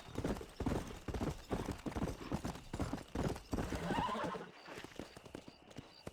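Horses gallop in Red Dead Redemption, hooves clip-clopping in a fast, close rhythm, with a whinny near the end and some faint voices beneath.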